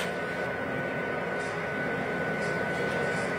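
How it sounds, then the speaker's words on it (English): Airplane engines drone steadily inside the cabin during a flight, a constant broad roar with a faint steady tone on top, unbroken throughout. "The sound is actually the engines."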